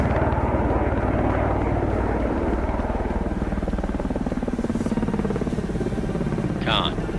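Jet aircraft launching from the Russian aircraft carrier Kuznetsov, a loud continuous engine roar and rumble that swells and sustains throughout, with radio-style voices faintly heard over the noise.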